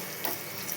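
Dried red chilies frying in a pan with a little turmeric, a steady soft sizzle with faint crackles, short and close, with no voices.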